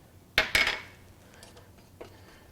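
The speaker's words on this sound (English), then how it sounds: "Just going to stir." A spoon clinks sharply twice against a pot while butter is stirred into pastry cream, then fainter scraping and a softer knock follow in a quiet kitchen.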